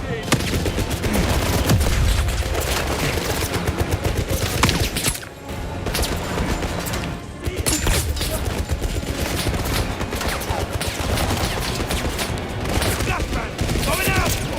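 Sustained gunfight in the video game 007 First Light: dense, continuous automatic fire and rapid shots rattle on for the whole stretch, loud and close, with shouted voices mixed in and a brief lull midway.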